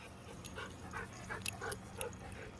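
A dog running around outdoors pants and gives faint whimpering yips, with quick breathy puffs at a moderate distance against light background noise.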